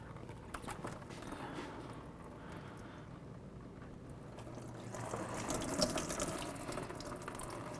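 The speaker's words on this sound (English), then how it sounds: "Remove the clamp, just be prepared because coolant will come down" Engine coolant from a 2002-2010 Dodge Ram draining into a bucket during a water pump job, a faint steady splashing trickle that swells slightly toward the end.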